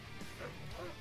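Attack dogs in the real-time strategy game Red Alert Remastered bark in short yapping bursts, fairly faint, mixed with game noise and a voice.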